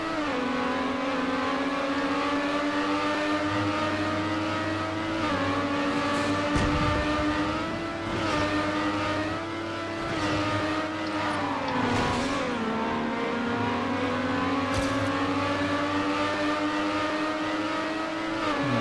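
Racing car engine in TrackMania Nations Forever, a loud continuous high whine that rises and dips as the car accelerates, shifts and corners, with no voices.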